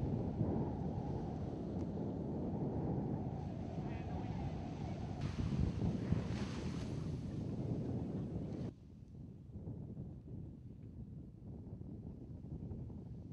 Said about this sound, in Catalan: pero hace un poco de viento